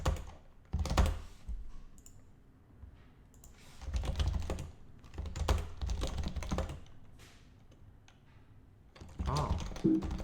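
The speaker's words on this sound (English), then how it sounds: "I'm just clicking buttons" Computer keyboard typing comes in irregular bursts of close, clacky keystrokes with short pauses between flurries.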